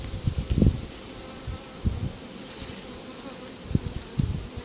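A close, droning buzz of many honey bees in an apiary, around a hive box, with occasional louder swells as individual insects pass near, over faint outdoor rustling.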